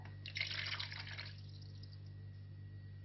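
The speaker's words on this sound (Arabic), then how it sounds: "نبدو بكاس ماء" A glass of water is poured out while mixing dough for a quick flaky coca, giving a soft, brief splashing trickle that fades into a quiet room hum.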